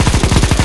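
Rapid automatic gunfire rattles in CS:GO zombie escape mode on the ze_flex_b4 map, a loud, steady stream of shots repeating several times a second with no pauses.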